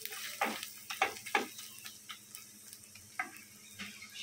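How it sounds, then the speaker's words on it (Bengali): Spices being stirred into tripe curry in a pan, with a few distinct scraping strokes of a spoon against the pan over a soft sizzle, close and fairly quiet, with no talking. "1/2 চামচ দিয়ে এখন মশলাগুলোকে মিক্স করে নিচ্ছি"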